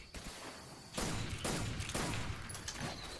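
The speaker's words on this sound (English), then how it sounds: "I'm going to make a loud sound with a gun" Gunfire in the stealth video game Metal Gear Solid 3: a rapid burst of shots, then several more volleys in quick succession, loud and close, with no talking.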